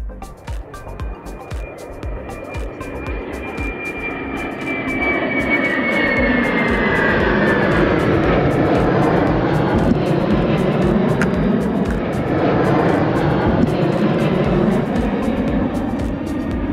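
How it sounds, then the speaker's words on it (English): KLM Airbus A330-200 airliner flying overhead with two F-16 fighter jets at its wingtips, a sustained loud engine roar swelling after a few seconds and holding steady throughout, with a faint whine fading early. "Dames en heren van de Koninklijke Luchtvaartmaatschappij met aan haar vleugeltips twee F-16's"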